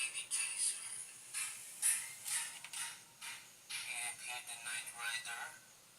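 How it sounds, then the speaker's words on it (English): A small speaker driven by a D882 transistor fixed-bias amplifier plays a bright, tinny chirping pattern fed from a 4017 Johnson counter LED chaser circuit, pulsing in short irregular bursts close to the mic. "That is the sound of the transistor amplifier."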